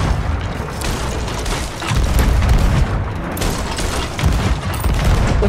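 Cannon fire during a Sea of Thieves ship battle: a dense run of booming shots and impacts, loud and near, coming in clustered volleys over roughly five seconds with no break in the noise.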